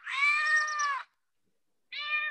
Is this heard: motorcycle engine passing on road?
no